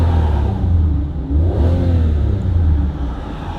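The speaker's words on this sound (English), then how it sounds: "if I rev her up" An Aston Martin Vanquish V12 with its exhaust in silent mode revs once, a muffled low drone swelling briefly mid-clip over a steady idle, close and continuous.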